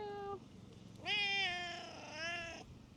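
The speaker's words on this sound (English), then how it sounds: "I heard another cat." A rescued cat on a Tenerife animal-rescue farm gives one short meow and then a long, drawn-out, loud meow close by, with no talk over it.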